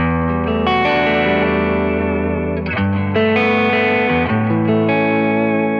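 An electric guitar plays chords through a distorted, chorused overdrive tone with no boost, steady in level with sustained notes and reverb tails.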